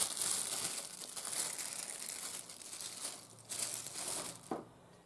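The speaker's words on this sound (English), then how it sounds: "as I take it out of the clamshell and unwrap it" Plastic clamshell packaging crinkles and crackles as a small model railway item is unwrapped, a steady close rustle with louder crunches near the start and end and a sharp snap just before it quiets.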